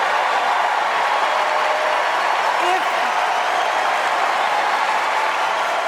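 Convention crowd at the DNC cheering and applauding, a dense, steady roar of clapping and cheers sustained throughout.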